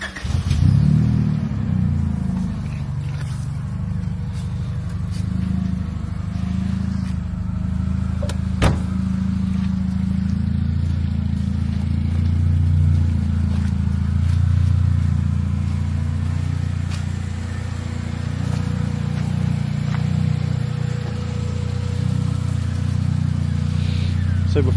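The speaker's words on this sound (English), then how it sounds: "the noise it makes when it starts, because it is quite an iconic noise, a kind of a well-known noise for these cars." A Peugeot 309 engine runs with a steady low idle rumble, then revs lightly now and then, close and continuous for about twenty-five seconds, with one sharp click partway through and no clear start heard.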